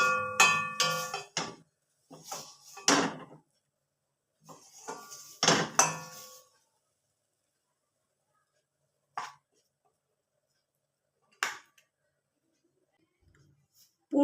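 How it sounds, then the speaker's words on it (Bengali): A spoon scrapes and clinks against a pan and plate as freshly cooked coconut filling is scooped out, in several short metallic bursts separated by long silent gaps. "এবার আমি এই প্লেটের মধ্যে তুলে নেব।"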